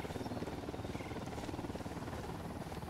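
An enemy helicopter patrols overhead in the Ghost Recon Wildlands video game, its rotor giving a continuous low rhythmic thumping at moderate distance, with no talk.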